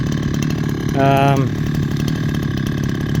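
Husqvarna 372XP clone chainsaw with a freshly ground chain runs at a steady, loud idle-like drone, briefly rising in pitch as the throttle is blipped before settling back, heard close with someone talking over it.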